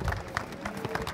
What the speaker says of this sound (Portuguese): Salva de palmas para ele aí.